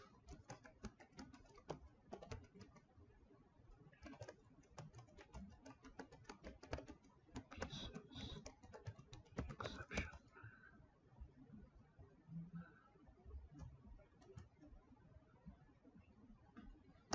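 Keyboard typing while writing Java code, irregular bursts of soft clicks in a near, steady stream with short pauses, some faint voice murmurs in the background.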